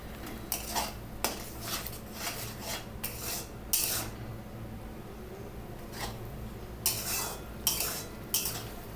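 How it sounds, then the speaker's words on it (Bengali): Spoon scraping and clinking against a pan while tomato is stirred into a katla fish chorchori spice mix, giving repeated metallic scrapes and taps in irregular bursts, close and fairly quiet. "এবার এর সাথে টমেটোটা মিশিয়ে দেবো"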